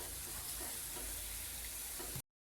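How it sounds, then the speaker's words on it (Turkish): Milk poured gradually into a flour roux with roasted eggplant while stirring on the stove for Hünkar Beğendi: a continuous close sizzle and bubbling stir that cuts off abruptly at the end. "Şimdi yavaş yavaş sütümü ekliyorum."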